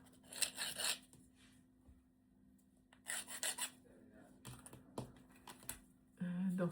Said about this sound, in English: Let's get the burrs off.